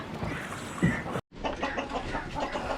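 Farm chicken clucking as it feeds inside a bucket, soft intermittent clucks and pecking close by over a murmur of other farm sounds, with a brief dropout partway.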